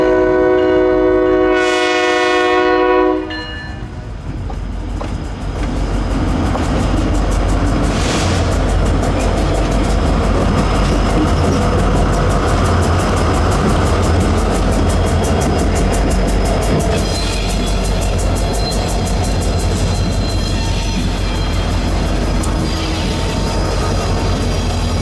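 A KLW SE32C diesel locomotive on the Yadkin line sounds a loud multi-tone horn blast near the start, then rumbles steadily past close by with a heavy engine drone and rolling wheel and car noise that continues to the end.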